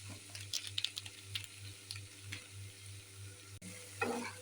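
Shrimp frying in a pan with onion, garlic, dried red chilli, turmeric and salt, a faint steady sizzle with soft stirring scrapes over a low background hum.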